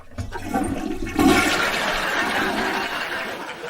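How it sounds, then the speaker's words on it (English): A toilet flushes up close, a sudden gushing rush of water that swells after a second and keeps draining steadily, with no talk over it. "I couldn't hear you over the toilet flushing."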